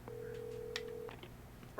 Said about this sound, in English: Alright, time to use the phone.